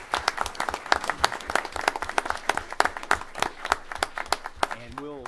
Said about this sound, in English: if you'd be willing to give them a round of applause